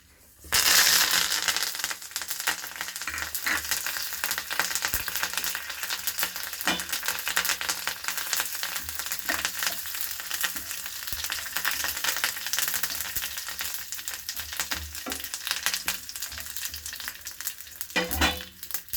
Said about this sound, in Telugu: మనం ఈ తాలింపు సరుకులు వేసుకుందాం